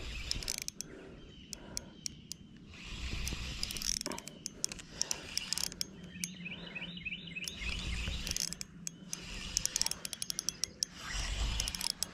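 A fishing reel spins out in quick ratcheting clicks as a fish strikes while creek fishing, giving several bursts of rapid mechanical ticking over an outdoor background.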